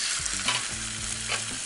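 A bonito fillet sears on its surface in a very hot pan, giving a short burst of dense, hissing sizzle with light spattering.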